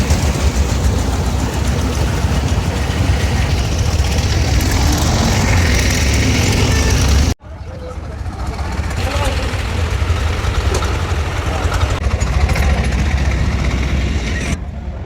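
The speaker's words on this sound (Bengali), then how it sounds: "বড় একটা পাওয়ার টিলার" A large power tiller runs at a busy cattle market, giving a loud, steady engine roar that cuts off abruptly partway through and then resumes. Voices and crowd noise carry throughout.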